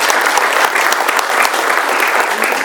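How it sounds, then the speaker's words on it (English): Audience at a Sierra Vista city council candidate forum applauding the candidates, a dense, steady clapping that stays loud and even for a few seconds with no pause. "give these folks a round of applause for their time this evening"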